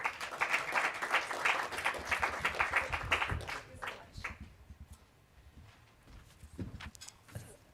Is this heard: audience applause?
yes